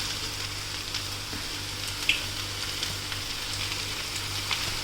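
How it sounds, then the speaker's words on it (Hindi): Fried rice sizzles steadily in a hot pan as soy sauce and vinegar are added, a constant frying hiss with faint crackles and one small clink, moderately loud and close. "अब मैं इसमें डालूँगी सोया सॉस और विनेगर।"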